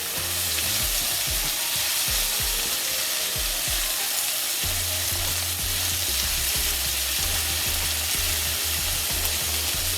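Jamaican ackee and saltfish frying in a pan with seasoning and black pepper stirred in, a loud steady sizzle with rhythmic scraping strokes of the spoon near the mic.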